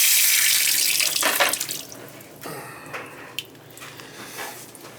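Rushing water pours loudly from a pipe at first during a whole house water filter installation, then tapers off into gurgles and occasional drips as the flow drains away.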